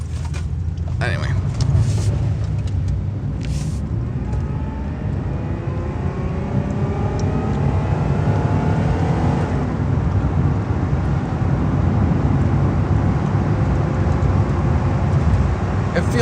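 A Pontiac Bonneville with tall gearing pulls steadily under acceleration, a low, continuous engine drone with road noise heard from inside the car, long and unbroken without sharp shifts.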